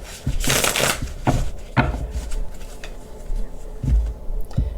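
A deck of tarot cards is shuffled up close in a series of crisp riffling bursts, then the cards are tapped and squared with a few soft knocks, with no talking.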